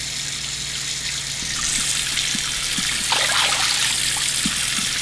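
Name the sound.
sink filling with water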